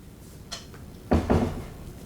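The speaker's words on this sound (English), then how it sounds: "Close the door." A door swinging shut indoors, a light knock or latch tap followed by a firm, close thud with a short rattle, heard alone in a quiet room.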